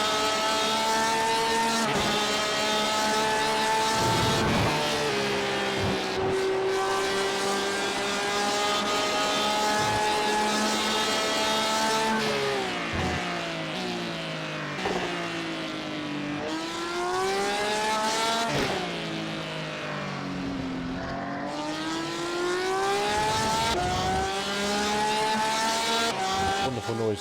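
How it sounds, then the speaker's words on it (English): Porsche race car engine in an iRacing endurance race at Silverstone roars loudly and continuously, its harmonic pitch climbing through gears and dropping on shifts, alone throughout. "Porsche's quite an amazing engine though"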